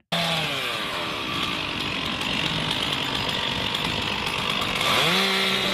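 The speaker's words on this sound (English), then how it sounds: "What you're hearing is a sound of chainsaws and other things helping dig people out." Chainsaws and other power tools run as rescue teams dig through the rubble of bombed buildings in Kyiv. A loud, continuous buzzing whine holds steady, with pitch swells as the saws rev up and bite into debris.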